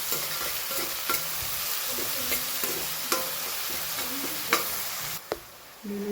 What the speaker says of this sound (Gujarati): મિક્સ કરીએ.